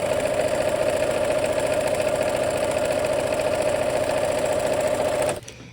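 A home sewing machine stitches the last seam of a quilt block in a steady, fast mechanical whir with rapid needle rhythm, running close and loud for about five seconds before stopping abruptly.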